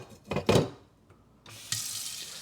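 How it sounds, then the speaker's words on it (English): Hot water runs from a kitchen tap into a container, starting with a few sharp clanks and splashes, then a steady close rush of filling water. "I'm gonna fill this with some hot water as well."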